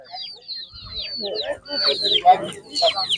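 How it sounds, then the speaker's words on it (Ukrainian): Small bantam-type hens cluck and chirp in short, soft bursts close by at an animal fair, with a person talking quietly underneath. "Такі курочки маленькі."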